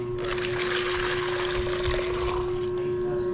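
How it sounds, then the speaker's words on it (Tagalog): Warm water is poured into soya milk to make taho, giving a continuous splashing trickle close by that lasts for a few seconds. "Buhos mo lang dito."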